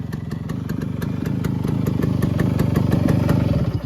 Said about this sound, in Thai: เนี่ยเครื่องเดินเบานิ่งมากไม่ดังเลย